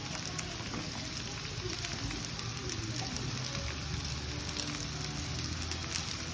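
Carrots and beans frying in a pan with onion and ginger garlic paste for noodles, a dense, continuous sizzle like steady rain, close and even throughout.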